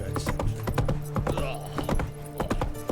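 The horse Roach in The Witcher 3 gallops with rapid, rhythmic hoof clip-clops, close and steady over a low droning background, no voices.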